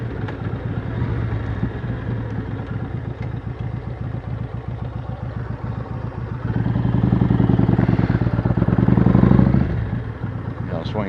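A motorcycle rolls through a parking lot on Bridgestone tires, its engine making a steady, close rumble with some clatter that swells louder partway through before settling back.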